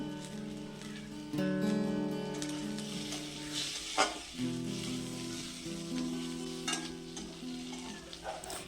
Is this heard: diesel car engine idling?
no